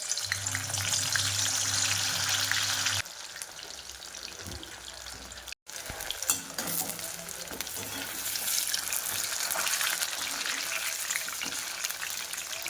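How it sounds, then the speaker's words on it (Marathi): Halved dal baati shallow-fry in hot oil with a loud, dense crackling sizzle that runs nearly throughout, broken briefly by a short pause, then resuming strongly. "आपण करून घेणार आहोत शेलो फ्राय करून घेणार आहोत"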